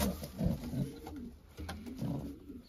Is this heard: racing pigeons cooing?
yes